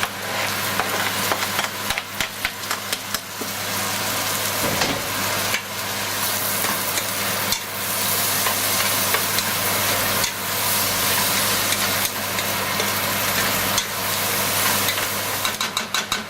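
Tomatoes stirred into shrimp already frying in a pan for a Surinamese callaloo dish, a loud, continuous sizzle with repeated scraping and stirring strokes and a low steady hum underneath.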